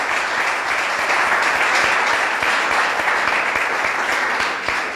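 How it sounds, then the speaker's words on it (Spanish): A church congregation applauds during a Spanish-language service: steady, dense clapping fills the room for the full five seconds at a loud, even level. "dale un aplauso al Señor"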